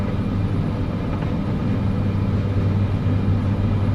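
Steady, loud aircraft engine roar with low rumble during a takeoff roll in Microsoft Flight Simulator 2024 near Jamaica, continuous and close without voices.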